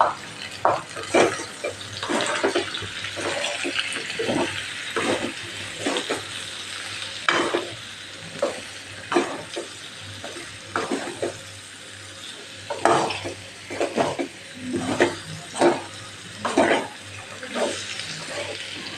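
A spoon repeatedly scrapes and stirs through a pan of Kathiyawadi potato finger-chips curry with tomato, red chili powder and spices. Rhythmic, close strokes come over a soft sizzle, with no talking.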